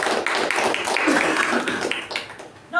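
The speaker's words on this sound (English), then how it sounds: "Please give a huge round of applause to Toastmaster Madhusudan." Audience at a Toastmasters meeting applauding a speaker, a short burst of steady clapping from a room of people that fades near the end.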